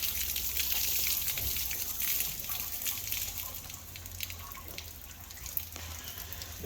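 Coolant drains from a Jeep Grand Cherokee diesel engine as a steady, faint trickling and splashing stream of liquid that continues throughout with no talk.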